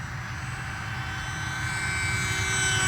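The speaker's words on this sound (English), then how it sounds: "Great flying little airplane." A small Aeroscout RC airplane flies overhead with its electric motor whining steadily, a high buzzing drone that grows slightly louder as it nears.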